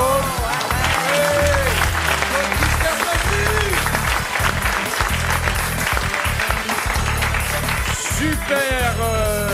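Studio audience on a French radio show applauding loudly and continuously for nearly ten seconds, dense clapping with voices and music running underneath.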